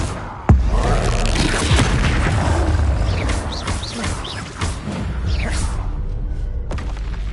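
A loud burst from a Confringo fire spell in Hogwarts Legacy opens with a sharp thump, then a crackling, whooshing roar of flames and debris that trails off over several seconds.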